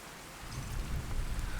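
Steady rain falling in the video game Fallout 4, a dense low rumbling wash that swells after a quieter start and holds at moderate loudness with no voices.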